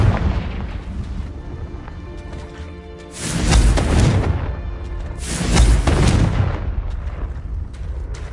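Bombarda and Confringo explosion spells going off in Hogwarts Legacy: two heavy, roaring blasts, each swelling and rumbling for about a second over a steady low background.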